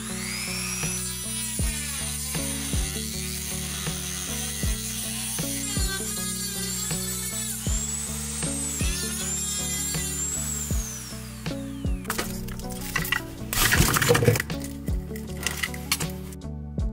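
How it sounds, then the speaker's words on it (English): A cutting machine slices into the casing of a vivo/iQOO 120W GaN charger, giving a steady high-pitched whine that shifts in pitch in steps, then a harsher grinding burst near the end. "we have to use the cutting machine to cut it off"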